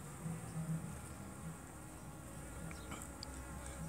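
A steady buzz from honey bees in a mini mating nucleus hive hums continuously, a soft, diffuse drone with a few brief higher whines drifting past.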